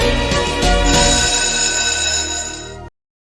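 An electronic school bell or ringtone chime for the last-bell celebration of an 8th-grade class plays loud and continuous for about three seconds, then cuts off abruptly.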